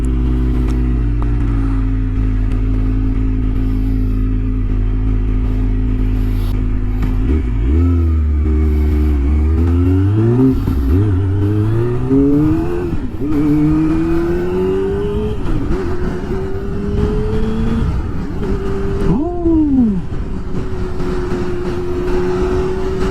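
A Kawasaki Ninja ZX25R motorcycle with a Yoshimura R77 full exhaust, filmed in Japan among cherry blossoms, idles loudly and then revs repeatedly in rising, falling sweeps of its high-pitched engine note, close by with no talk.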